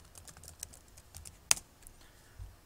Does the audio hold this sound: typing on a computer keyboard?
yes